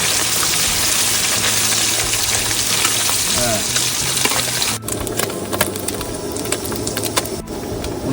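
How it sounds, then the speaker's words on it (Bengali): Small khoira fish frying in hot oil make a loud, dense, continuous sizzle, broken by clicks and pan scrapes near the end. No voices can be heard. "এবার খয়রা মাছ ভেজে নেবো"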